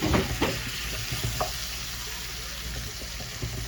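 Cut strawberries hitting a hot buttered pan, giving a steady close sizzle and frying hiss with a few stirring clinks at the start before settling into continuous crackle.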